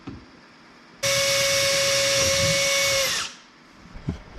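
A cordless power drill whines steadily for about two seconds, loud and close, while drilling mounting holes for a BassBoat Technologies boat mount. The motor then spins down, and handling noise follows with no talk.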